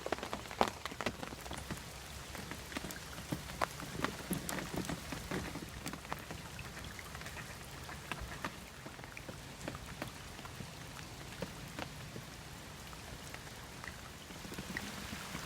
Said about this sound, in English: As the rain continues to fall